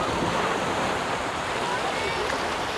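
Steady roar of surf washing onto Om Beach in Gokarna, broadband and continuous, with wind buffeting the microphone and faint voices mixed in.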